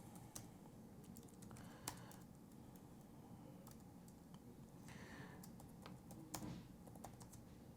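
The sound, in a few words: typing ad text on computer keyboard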